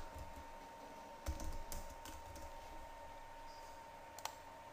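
Keys clacking on a computer keyboard as text is typed, a few sharp clicks standing out over a steady low room hum, close and moderately quiet.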